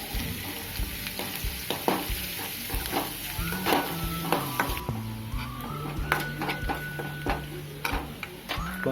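Garlic sizzles and fries steadily in a pan on a tava for homemade mushroom pizza sauce, with frequent spoon stirs and scrapes clattering against the metal close by.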